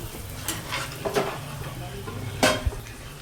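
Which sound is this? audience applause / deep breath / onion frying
onion frying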